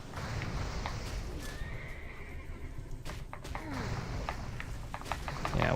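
Horses in a video game neigh and whinny over clip-clopping hooves and busy game noise, with several sharp whinnies standing out against a constant background.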